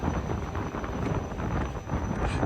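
Wind buffets the microphone aboard a ferry, a steady loud rumbling roar that fills the whole moment without any speech.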